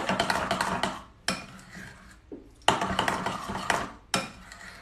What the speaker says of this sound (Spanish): Volvemos a revolver.